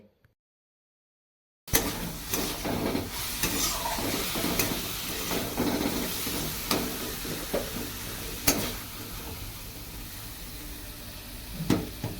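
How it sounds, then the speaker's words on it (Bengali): Red amaranth leaves frying on a gas stove, a steady close sizzle with intermittent stirring scrapes and clatter after a brief silent start, no talking. "ওই বড় গ্যাসটার মধ্যে লাল শাক ভাজা করে নিচ্ছি"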